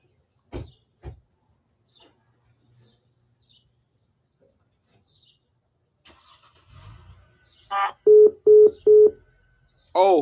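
Near-silence with a few clicks and a faint rumble, then a phone's rising electronic chirp followed by three evenly spaced beeps and another chirp, loud and close.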